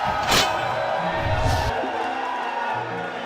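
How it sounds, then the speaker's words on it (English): A loud crowd at a Clash Royale esports finals roars and cheers continuously, with shouting voices and a couple of bright bursts rising above the din. "You can hear the crowd chanting, Backstab, Backstab."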